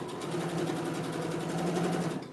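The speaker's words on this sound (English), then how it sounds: "So I'm doing a top stitch on this" A sewing machine runs steadily, top stitching a seam on small dog clothing; a continuous close, even whir with a fast rhythmic stitch pulse that holds for the whole stretch without pause.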